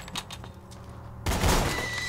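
Gunfire in Borderlands 2 during a co-op session: a quieter stretch of scattered shots gives way to a loud, dense burst of rapid fire that keeps going to the end.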